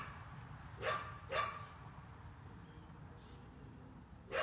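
A dog barks three times, sharp short barks spaced out over a quiet, low background rumble, heard at moderate distance.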